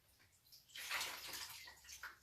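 A sponge swished and rinsed in a container of clean water, soft sloshing and trickling that swells then settles, quiet and close with no talking.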